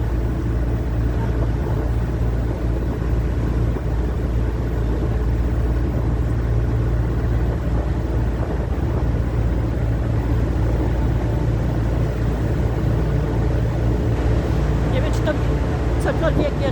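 Engines of a river cruise boat on an evening Danube cruise: a constant deep rumble and drone throughout, near and dominant, with faint voices and ambient noise on top.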